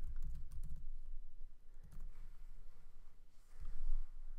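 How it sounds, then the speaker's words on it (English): Fingers tap on a computer keyboard nearby, an uneven run of soft clicks in a few small clusters over a low background hum. "you can keep typing until your heart's content"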